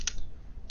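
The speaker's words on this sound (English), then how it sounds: "so I need to type in ping" A few quick, soft keystrokes on a computer keyboard while a command is typed into a Debian terminal, brief clicks over a low background hum.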